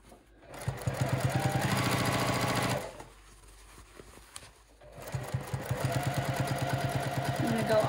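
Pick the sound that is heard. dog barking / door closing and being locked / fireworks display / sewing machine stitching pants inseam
sewing machine stitching pants inseam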